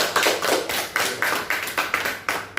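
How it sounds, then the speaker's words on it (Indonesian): A class claps together for a presenting group, about ten rhythmic unison claps at a steady beat, close and fairly loud with no talk over them. "kalau puas, tepuk tangan dulu untuk kelompok 1"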